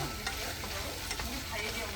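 Lechon paksiw being stirred in a hot pan, with a steady close sizzle of frying and scraping stir strokes running throughout.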